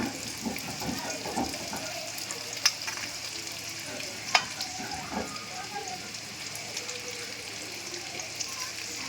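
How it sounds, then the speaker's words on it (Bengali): Carrots and beans frying together in hot oil in a pan, a steady close sizzle with occasional stirring clinks and scrapes throughout. "গাজর আর বিনসটা একসাথেই ভাজবো।"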